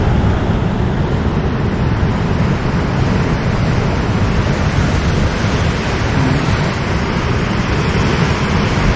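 Strong sea waves on a Croatian island shore in winter, a loud, steady roar of surf mixed with wind buffeting the microphone, continuous and close with no talking.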